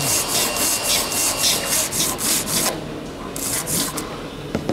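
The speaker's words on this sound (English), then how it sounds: "I'm back filing feathered edges again." Hand filing of feathered metal edges during restoration of the Avro Lancaster bomber NX611, a steady run of close, rasping back-and-forth strokes that pause briefly and then resume.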